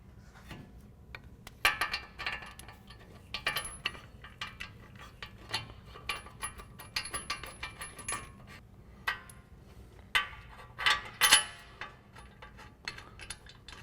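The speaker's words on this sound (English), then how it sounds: "we'll tighten them down with our 21mm socket" A hand ratchet on a 21mm socket tightening front brake caliper bolts on a 2015-2020 Ford F-150, heard as scattered bursts of metallic clicking and clinking at close range with pauses between strokes.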